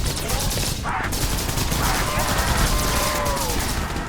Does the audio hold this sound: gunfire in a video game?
yes